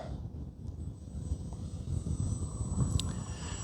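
An RC biomimetic mini eagle model aircraft of 1200 mm wingspan, the Dancing Wings Hobby E15, flies overhead with a steady electric motor whine and propeller hum, moderately distant and holding level throughout over outdoor background noise.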